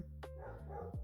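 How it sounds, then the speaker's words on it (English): A single dog barks a few times in the background of an indoor setting, the short barks fairly faint and set against a steady low hum. "Apologies for the dog in the background there."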